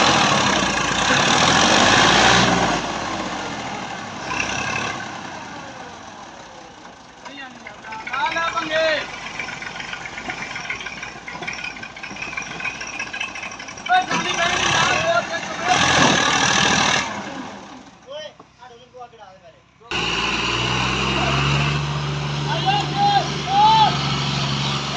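A tractor engine idles nearby in a steady low rumble that swells and fades, with people talking over it throughout and a few sharp breaks in the sound.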